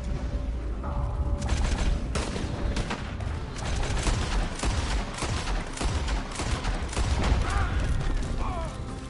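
Repeated gunshots and shootout fire from the video game Red Dead Redemption 2 keep going steadily over a dense, loud mix of battle noise. Scattered voices can be heard under the gunfire.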